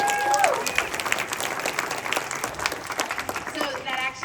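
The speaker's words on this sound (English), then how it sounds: "Give Holly the a big round of applause." Audience applause after a comedy Q&A introduction, a dense wash of clapping and crowd noise running steadily throughout, with a few brief tonal sounds and some voices mixed in.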